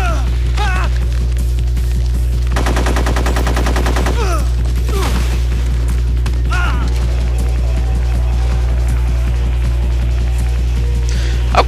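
Bursts of rapid automatic gunfire in Metal Gear Solid 3, one long rattling volley in the middle with scattered single shots and impacts before and after, loud over steady game background noise.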